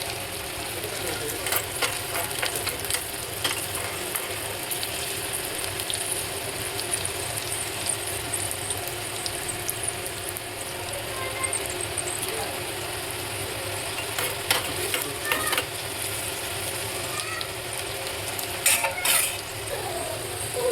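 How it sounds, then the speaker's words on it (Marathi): Steady crackling sizzle of a chili tempering in hot oil for dal, continuous and close, with occasional metallic stirring clicks and brief louder bursts. "फक्त मिरचीचाच तडका देणार आहे मी"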